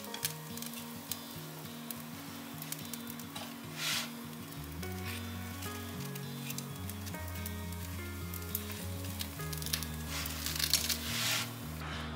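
Eggless cabbage pancake frying in a pan, a steady close sizzle running throughout while it is flipped and rolled, with occasional scraping and tapping of a utensil over background music.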